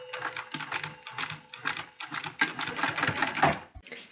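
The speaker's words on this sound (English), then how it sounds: "now we can proceed to a backward stitch" Sewing machine sewing a backward stitch on a bum bag from a DIY kit, with rapid rhythmic needle clatter in short bursts separated by brief pauses, close and fairly quiet.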